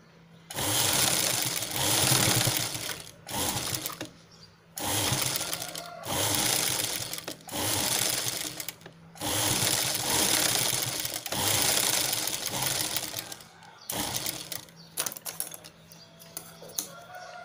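Sewing machine stitching a chain onto a velvet purse at home, in several bursts of a few seconds each separated by short pauses, close and fairly loud with rapid needle clatter.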